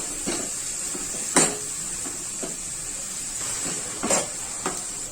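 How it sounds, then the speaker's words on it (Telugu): Green chillies, onions, curry leaves, mint and coriander fry in oil for bagara rice, a constant hissing sizzle with occasional light stirring clinks and scrapes, close and steady. "ఇప్పుడు 3 పచ్చిమిర్చి, 1 కప్పు సన్నగా తరిగిన ఉల్లిపాయలు, కొద్దిగా కరివేపాకు, 1 కప్పు పుదీనా, కొద్దిగా కొత్తిమీర కూడా వేసుకొని వేయించుకుందాము"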